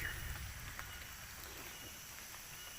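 Light drizzle falling outdoors on a stairway up Gunung Tampomas, a soft, steady hiss with faint scattered patter that stays even throughout.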